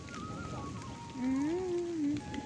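Rain falling outdoors makes a soft, steady hiss throughout, with a brief voiced tone rising over it midway.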